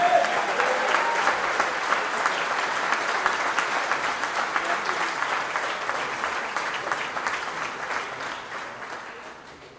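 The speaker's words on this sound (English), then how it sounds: "Give a round of applause for Ted." A crowd at a political campaign rally in Philadelphia applauds steadily for about ten seconds, dense clapping that slowly fades toward the end.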